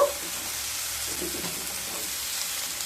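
Spices frying in a pan for a raw-tomato fish curry sizzle steadily as two medium chopped tomatoes go in, a broad, even hiss with a brief flare at the start and soft stirring scrapes, no talking.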